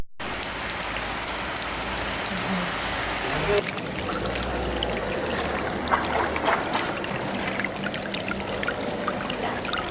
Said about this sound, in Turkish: Şırnak'ta öğlen saatlerinde aniden bastıran yağmur sel veya su taşkınlarına neden olmazken